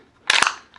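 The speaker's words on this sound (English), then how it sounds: "just the ultimate sound effect as far as the metal clacking noise, which is always satisfying" Metal clack of a WE Tech M4 gas blowback open bolt airsoft rifle: two sharp, close mechanical snaps in quick succession, loud and alone, with a short ringing tail.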